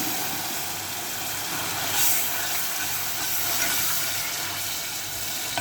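Vinegar poured onto garlic frying in a pan sets off a continuous loud hiss and sizzle, steady steam-like noise lasting the whole time, with a slight surge near the middle.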